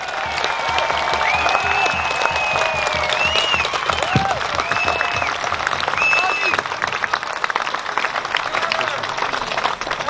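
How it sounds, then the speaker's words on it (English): A crowd at an outdoor rally in Melbourne gives loud, sustained applause, dense clapping running throughout with cheers and voices mixed in. "Huge round of applause, everyone."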